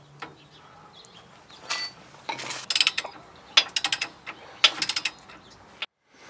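A ratchet wrench torques down a tie rod end on a Ford F150 during control arm replacement, with bursts of quick, close clicking pawl ratchets separated by short pauses.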